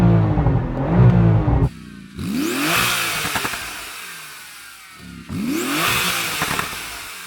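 A Porsche GT2 RS engine revs hard in repeated bursts, each rising sharply in pitch to a loud roar and then dropping off, with short gaps of lower idle between them.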